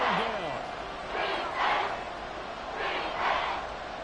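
Stadium crowd at Arrowhead roaring in the Madden NFL 24 football video game, rising in repeated swells of cheering, with a game commentator's voice heard over it.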